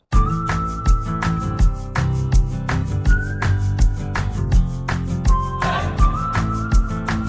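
A whistled melody with a processed, pitch-corrected tone rides over a country-music backing track with a steady beat and bass.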